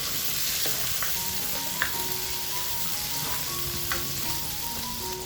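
Onion sautéing in a pan for fish sinigang, a steady soft sizzle with occasional light clicks from stirring, with no talking.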